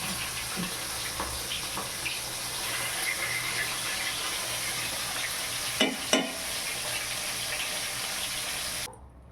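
Bhola fish fry two at a time in oil, giving a soft, steady sizzle with faint bubbling, a pair of sharp clinks near the end, and then sudden quiet.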